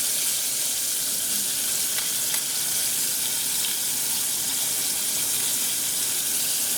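Armadillo pieces frying in overly hot grease give a loud, steady, dense crackling sizzle that runs unbroken from start to finish, close by and with no voices.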